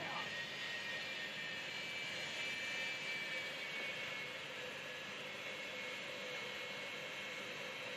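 Pro Mod drag racing car spooling its engine before launch at an IHRA Outlaw Nitro Series qualifying event in Dunn, North Carolina, a steady sustained whine and roar heard from a distance with crowd noise and voices mixed in.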